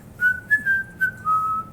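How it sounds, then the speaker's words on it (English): A person whistles a short melodic phrase of several clear notes, each held briefly with small pitch slides, near and fairly loud against quiet background, with no talking. "He began whistling"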